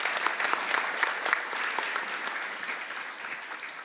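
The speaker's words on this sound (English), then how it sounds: "One other round of applause for our panelists" A conference audience gives a round of applause for the panelists at a real estate panel, a steady dense patter of many hands clapping at moderate distance for several seconds, fading slightly toward the end with no talking.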